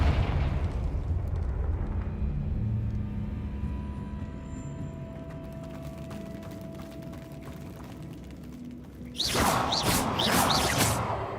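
A Confringo fire spell bursts in the Hogwarts Legacy video game with a rumbling blast that fades to a low hum, then a second loud whooshing burst flares up near the end.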